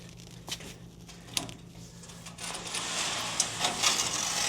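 A chimney cleaning brush on a drill-driven rod is pushed up inside a chimney, giving faint, irregular scraping and rustling with occasional sharper knocks that grow denser and louder toward the end.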